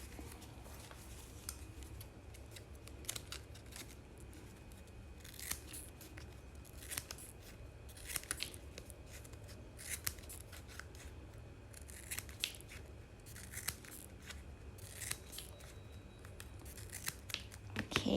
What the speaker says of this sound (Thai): ในส่วนตรงนี้นะคะ ก็จะเป็นส่วนเกินนะคะ สามารถตัดทิ้งได้เลยค่ะ